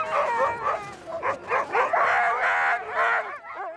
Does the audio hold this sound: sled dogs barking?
yes